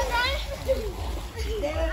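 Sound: children swimming and splashing in water

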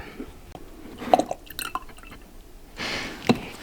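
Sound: pouring the last of diluted apple juice

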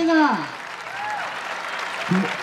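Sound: applause

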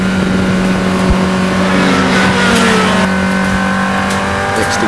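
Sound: car engine revving during a lap of Anglesey circuit

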